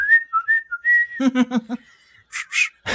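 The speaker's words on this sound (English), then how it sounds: "they did the mountain boy whistle" A person whistles the mountain boy secret whistle, a short sequence of clear rising and falling notes. It is followed by a burst of laughter-like voice sounds and breathy noises, close and loud.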